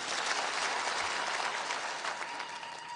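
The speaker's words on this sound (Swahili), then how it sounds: "na tena tumpigie makofi" Dense applause from a large crowd at an outdoor political campaign rally in Kilgoris, Kenya, steady and close for the full few seconds.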